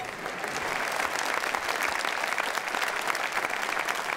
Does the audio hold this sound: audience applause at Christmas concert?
yes